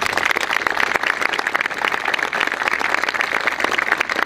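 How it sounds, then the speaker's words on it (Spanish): Steady applause rises for teachers and students at a community event in San Carlos Centro, a dense continuous patter of many hands clapping throughout, fairly loud and unbroken. "Yo le pido un aplauso para ellos."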